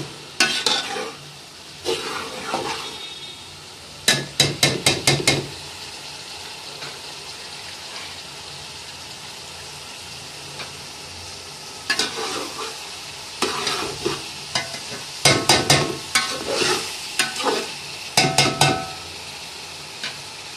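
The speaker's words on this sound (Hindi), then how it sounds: "इनको मिक्स कर देंगे सारी सब्जियों में।" Vegetables, egg and chicken are tossed and stir-fried in a pan for Chinese-style chicken vegetable rice, bursts of loud rapid metallic scraping and clattering between stretches of steady sizzle, close up with no talking.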